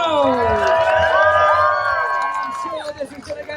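Crowd at a MotoAmerica motorcycle race at The Ridge cheering for the race winner, loud whoops and shouts with an amplified voice over the top, tapering toward the end.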